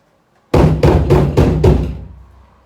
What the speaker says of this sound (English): Gio, me kick off the door.